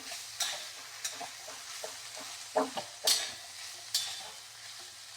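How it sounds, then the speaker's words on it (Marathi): Broad beans (ghevda) steaming in a covered pan are stirred now and then, giving a handful of scattered scraping and clinking spoon strokes over a quiet, low simmering hiss. "मधून अधून आपल्याला भाजीला असं एखाद्या वेळेस हलवून घ्यायचंय, त्यामुळे भाजी आपली खाली लागणार नाही"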